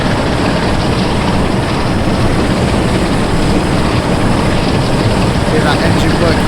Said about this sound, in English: Hear that engine work hard.